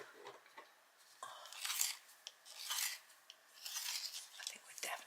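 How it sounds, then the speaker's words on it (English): Raw umber coloured pencil turned in a small hand sharpener, a close, quiet series of dry rasping and scraping bursts in uneven strokes with short pauses between them. "I'm just going to sharpen my raw umber."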